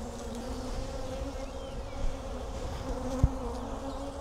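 Honey bees buzz steadily around an open hive during an inspection, a continuous close drone with a faint sharp click near the end.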